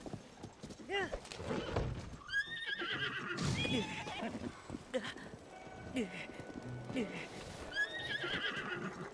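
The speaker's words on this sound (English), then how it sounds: "Hey look, the sound of another horse." Horse in Zelda: Tears of the Kingdom whinnies repeatedly amid clip-clopping hooves and game effects, moderately loud, with a person talking over it.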